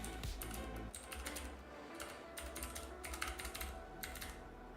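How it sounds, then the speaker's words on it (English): Fast typing on a computer keyboard at close range, a continuous stream of light key clicks in uneven bursts over a low background hum, fairly quiet and without talking. "I'm definitely struggling as I try to talk and type at the same time."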